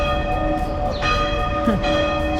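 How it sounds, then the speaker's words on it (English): Church bells in Cortina d'Ampezzo in the Dolomites, Italy, ring continuously, their sustained resonant tones layered and overlapping against a background hum. "Church bells."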